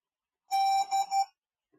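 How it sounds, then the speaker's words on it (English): DJI drone emitting three short, clear electronic beeps in a quick row when powered on for binding to its controller, with silence before and after. "Aircraft beeped, yes, and clear."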